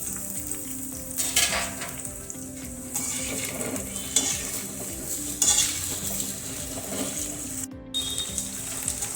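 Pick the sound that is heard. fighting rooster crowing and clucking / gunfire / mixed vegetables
mixed vegetables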